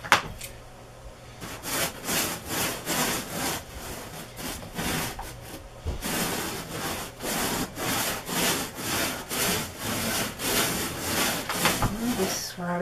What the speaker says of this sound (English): you just get it rubbed into the mattress really well